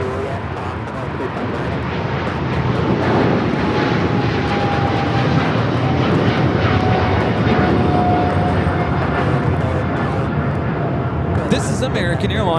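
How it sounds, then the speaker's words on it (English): An American Airlines Boeing 777-300ER takes off from Los Angeles for London Heathrow, a heavy, sustained jet roar holding steady throughout with a faint whining tone sliding across it. "This is American Airlines 134 Papa taking off to London Heathrow on the 777-300ER"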